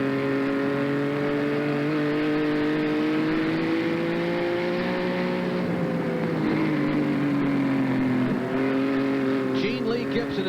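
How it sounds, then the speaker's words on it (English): A 1989 race car circuits IRP with its engine held smoothly on the throttle, a loud sustained harmonic drone that sweeps gently in pitch, with faint voices underneath. "Listen to how smooth Fry is on the throttle. Listen how smooth this is"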